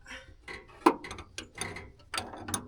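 A wrench ratchets in a cramped space on the master cylinder of an M35A2 Deuce and a Half truck, giving a series of close, irregular clicks and metallic scrapes with short gaps between them.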